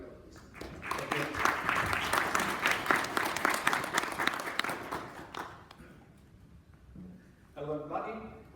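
Conference audience applauding a speaker at a Google Street View summit, a sustained burst of clapping that fades, then a voice starts speaking near the end.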